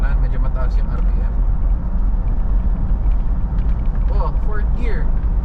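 A Mitsubishi Montero GLX with a manual gearbox, in fifth gear at low RPM, gives off a steady, loud, deep engine rumble throughout, with brief voices faintly over it.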